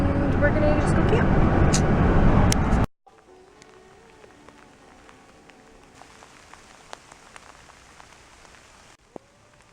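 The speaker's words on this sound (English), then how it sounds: "It's raining" Rain falling at a campsite in Rocky Mountain National Park, a loud steady patter for the first three seconds, then a quieter continuous hiss with scattered drops.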